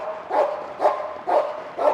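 A protection-trained Dutch Shepherd barks on command in four loud, evenly spaced barks, close by and alone with no talking.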